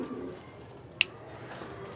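Andhra high-flyer pigeons in a home loft coo faintly and low at the start, then fade into a quiet background broken by a single sharp click.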